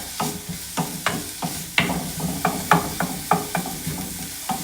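Onions frying in a pan for kwek kwek sauce, a steady close sizzle broken by rhythmic scraping stirs about twice a second, each stroke a sharp clattering burst over the hiss.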